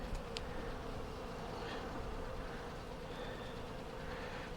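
Honey bees swarm in an opened hive, a dense continuous buzzing drone heard up close and steady throughout, with no talk.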